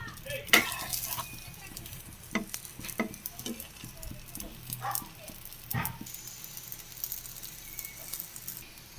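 Sugar roti frying in a lightly oiled hot pan, with a steady close sizzle and crackle punctuated by sharp clinks and scrapes of a utensil against the pan.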